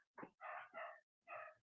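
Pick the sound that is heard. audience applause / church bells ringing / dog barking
dog barking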